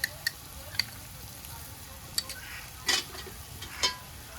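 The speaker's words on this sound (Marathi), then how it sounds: "सगळे आपले मसाले आहेत ते परतून झालेले आहेत" Ground masala paste is sautéed in a pan for a curry of small dried shrimp and jackfruit seeds, with a soft low sizzle under intermittent clinks and scrapes of a spoon against the pan.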